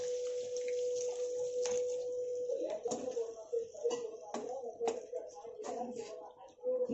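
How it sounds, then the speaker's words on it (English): Water poured into a simmering butter chicken gravy in a pan, a soft splashing pour joined by clinks and stirring noises under a steady tone, moderately close. "add some water"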